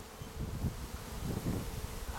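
Honeybees buzzing steadily as a swarm settles back into its hive, a continuous low drone with gentle swells in loudness and no voices.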